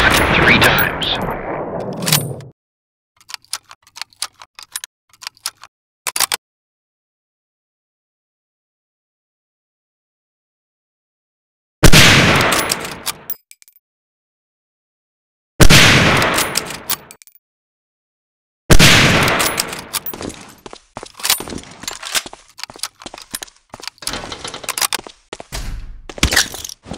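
Springfield 03 sniper rifle shots fire in the Medal of Honor Allied Assault video game as several sharp, loud cracks spaced apart by stretches of silence, with some shorter clicks and rattles between them.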